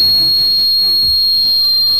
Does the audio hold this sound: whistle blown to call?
yes